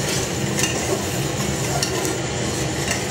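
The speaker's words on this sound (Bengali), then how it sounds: "দিয়ে নেড়ে দেবো।" Khichuri being stirred in a pot after salt and ground ginger go in, a steady close scraping and churning texture with faint sizzling, continuous and unhurried, no voices.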